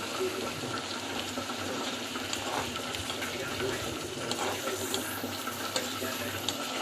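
Water runs steadily into a vessel of roasted Bombay duck, a soft continuous splashing and trickle at close range, fairly quiet.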